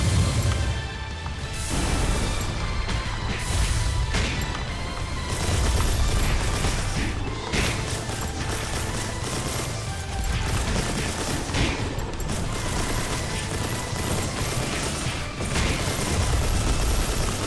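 Weapon salvos firing in the mech combat game Mass Builder with Gundam-style units, a steady barrage of rapid blasts, booms and mechanical clatter running continuously and loudly without a break.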